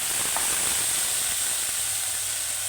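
Masala paste hitting hot oil with lightly browned onions sets off a steady, bright sizzle and hiss that fills the pan, close and continuous with no talk over it.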